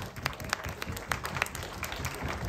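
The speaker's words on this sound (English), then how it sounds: "Big round of applause for those guys." Guests at a martial arts Hall of Fame awards dinner applaud a club seated at their table, a brief burst of scattered clapping from a room of people, fairly close and unbroken.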